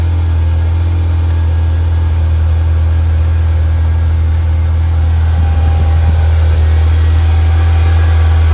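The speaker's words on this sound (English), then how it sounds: "But just listen to the V8. You can hear the weight of it" A Ferrari 348 V8 engine idles steadily as it warms up on a rainy day, a continuous deep, heavy rumble with a faint higher mechanical whine layered over it, close and loud throughout.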